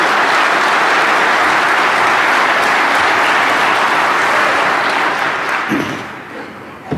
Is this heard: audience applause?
yes